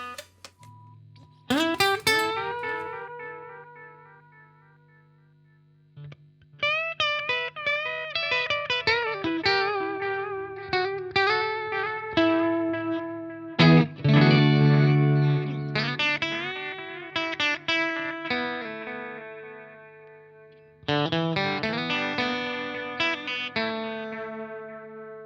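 An electric guitar plays chords and melodic runs through a budget Cuvave delay pedal with overdrive on, its distorted notes repeating in trailing echoes, loud and sustained, with a few short gaps between phrases.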